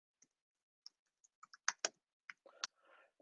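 Quiet, irregular keystrokes on a computer keyboard while entering text into Keynote, a sparse scatter of single clicks with a brief cluster of faster taps near the end.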